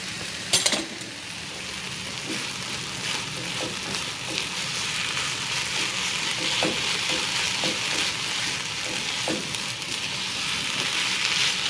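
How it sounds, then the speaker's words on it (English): Eggs frying in a small pan, a continuous soft crackling sizzle at close range with a few faint clinks and scrapes scattered throughout. "So I want to use that same little pan for these eggs."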